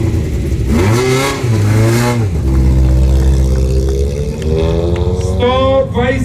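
A Ford Fiesta rally car revs at a rally event, with loud, close engine roars that rise and fall through several sweeps. No one talks.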